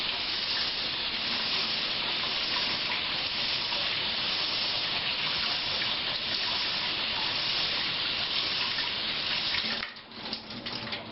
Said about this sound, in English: Give them a light rinse until the water runs clear.